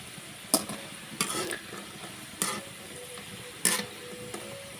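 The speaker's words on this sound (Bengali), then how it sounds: "এভাবে আমি বাকি সবগুলো নাস্তা ভেজে নেব।" The last batch of flour snacks frying in oil sounds as a low steady sizzle, broken by four or five louder scraping bursts as a utensil stirs against the pan, nearby.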